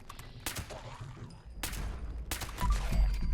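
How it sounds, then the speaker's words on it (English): Several bursts of rapid pistol fire from the Vampire's Crusader pistol in Fallout 76 crack out in quick succession, loud and close, with short gaps between volleys. "So there you can really see the power of those follow-through shots."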